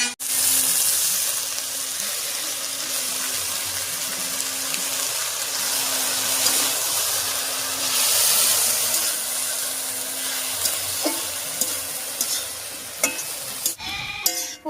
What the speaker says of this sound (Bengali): ফোড়নের উপরে শাকটা দিয়ে নাড়িয়ে নিয়েছি